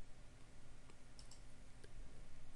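A computer mouse clicks during photo folder management, a few faint, light ticks spaced apart over a steady background hiss.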